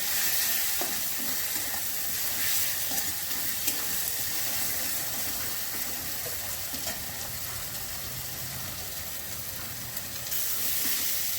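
Ground cumin, ground coriander and green chillies fry in a pan for a tilapia curry, a continuous close sizzle and hiss with faint stirring scrapes that holds steady throughout, with no voices.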